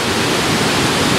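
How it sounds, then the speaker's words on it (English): Water rushes over a dam in Plattsburgh, New York, making a loud, steady roar close by that fills the whole clip without a break. "it's really loud. You got the dam. You got mad water."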